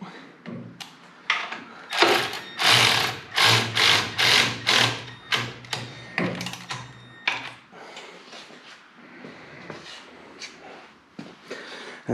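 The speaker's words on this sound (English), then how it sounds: "Milwaukee assault ratchet." A Milwaukee cordless ratchet works on the engine of a dirt late model race car, giving a run of rapid, close whirring bursts in a regular rhythm, then scattered quieter clicks and knocks.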